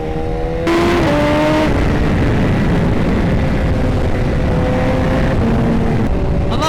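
A BMW S1000RR motorcycle with a stretched swingarm rides on a twisty road, its engine a loud, steady drone with wind rush throughout, gear changes shifting the pitch in steps, close-up and continuous.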